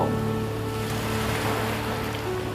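Sea waves roll in steadily on the coast of Chumphon, Thailand, a continuous close surf wash with no voices, holding an even level throughout.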